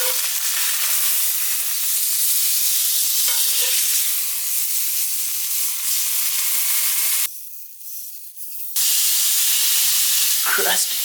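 Steak fat cap pressed onto a hot pan to render: a loud, continuous sizzling hiss that stays even, drops away briefly for about a second, then returns at full strength.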